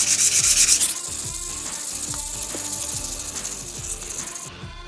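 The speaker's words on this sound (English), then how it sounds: "I'm gonna take some 150 grit sandpaper. I'm gonna hit this whole handle with it really good." A wooden handle of a cheap Harbor Freight hatchet is sanded by hand with 150 grit sandpaper, giving a loud, close, continuous rough scratching with steady back-and-forth strokes and no talking.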